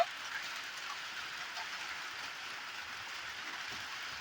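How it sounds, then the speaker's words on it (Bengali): Steady rain falls continuously outdoors, a soft, even hiss that holds at a constant moderate level throughout with no voices. "এই যে দেখো বৃষ্টি পড়ছে"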